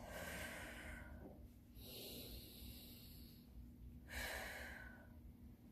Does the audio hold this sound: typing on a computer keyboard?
no